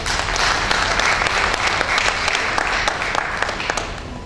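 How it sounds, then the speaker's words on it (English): Applause from the audience at a fixed income and retail bonds trading practicum, a dense, steady clapping that lasts the whole moment at close range. "Mr. Sani, round of applause,"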